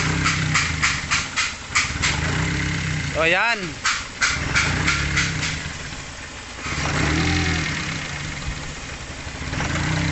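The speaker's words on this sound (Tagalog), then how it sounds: "talagang ang makina ay nag up and down" A Toyota Altis engine idles roughly up close, its revs surging and dropping unevenly, while someone speaks briefly over it.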